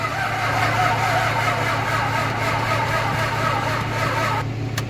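A bone stock 12 valve diesel engine runs steadily with throttle applied, a loud continuous low drone with a constant hum that holds for several seconds before cutting off abruptly near the end.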